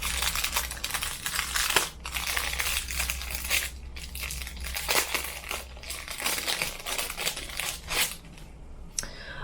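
Crinkly tearing and crumpling of a package of sandpaper pieces taped together, a dense, continuous papery rustle with brief pauses, close and fairly loud throughout with no speech.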